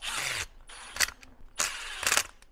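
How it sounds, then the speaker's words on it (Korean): A screwdriver fitted with a T10 Torx bit tightens screws into a plastic housing, giving a few short bursts of ratcheting clicks with pauses between them, close and fairly quiet. "별비트를 이용해서 T10짜리 이런 식으로 살짝 조아주신 다음에"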